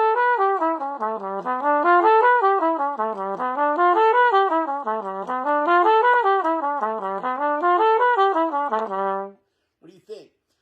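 A brass valve instrument plays a rapid dominant ninth arpeggio drill using alternate fingering. Clear tones climb and fall in a steady repeating pattern for about nine seconds, then stop, leaving a brief faint note after a pause.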